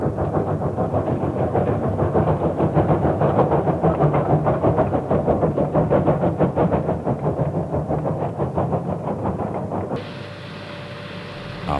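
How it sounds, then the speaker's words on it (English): New South Wales Railways S-Class steam locomotive 3067 chuffing into a lakeside terminus on a winter morning, a loud steady beat of exhaust puffs that fades out near the end, leaving a quieter hiss. "A glorious winter morning in 1969 as 3067 puffs into the lakeside terminus."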